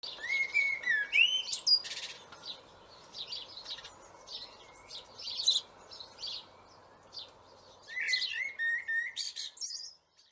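Blackbirds chirp and tweet in quick bursts, busy at the start, quieter in the middle, then another lively flurry near the end.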